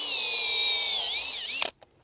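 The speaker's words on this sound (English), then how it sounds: "Now we drill another one about 6 inches away from it." A power drill whines steadily at high speed, bogging slightly as it bores into a wood log, then winds down and stops abruptly, close and loud.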